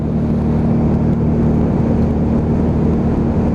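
A Lexmoto Vendetta 250cc motorcycle cruising on the road, its engine droning steadily and loudly with a constant low hum and rushing wind, with no change in pace for the whole stretch.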